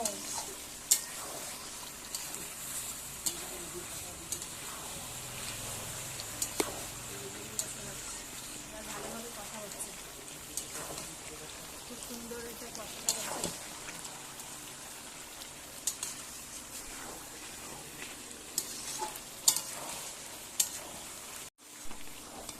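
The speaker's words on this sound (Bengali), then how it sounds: "চিকেনটা খুব ভালোভাবে কষা হয়ে গেছে" Chicken pieces being fried and stirred in oil in a pan during kosha for a gondhoraj chicken dish, with steady broadband sizzling and frequent scraping stirs throughout, close and moderately loud.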